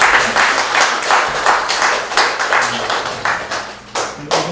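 An audience at an artist talk in a multi-purpose arts space breaks into applause, clapping in uneven surging waves that are fairly loud and close and carry on for a few seconds.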